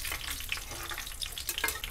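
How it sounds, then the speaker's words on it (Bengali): Bori lentil dumplings fry in hot oil in a wok, giving a steady close sizzle with faint crackles and stirring throughout, and no voices. "লাল লাল করে ভাজা হয়ে গেলে তুলে নেব।"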